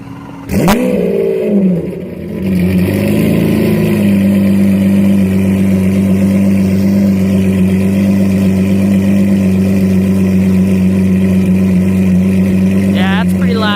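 A loud Lamborghini Aventador engine idles with a deep, steady drone after a brief sharp rev at the start; voices occasionally talk over it.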